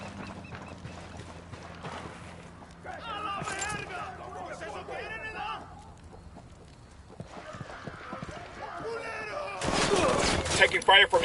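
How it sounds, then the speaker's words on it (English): Gunfire from a watchtower in the video game Ghost Recon Wildlands pops in scattered shots, quiet at first and building to a louder burst near the end, with voices talking throughout. "Taking fire from inside the watchtower."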